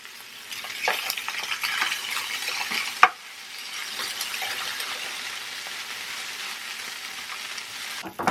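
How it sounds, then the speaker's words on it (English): Sausages crisping in hot oil alongside gnocchi in a single pan, a bright continuous sizzle and crackle with a sharp clatter partway through and another knock at the end, close and fairly soft. "I'm going to put the sausages in to start crisping up"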